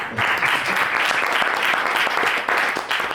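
Applause for student podcast creators of Catalan philology at a digital content event, a continuous full-room round of clapping with brief dips, heard on its own.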